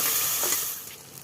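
Boiled masoor lentils and water are poured into a frying pan with sugar and spices, making a close splashing, bubbling gush that fades over about a second.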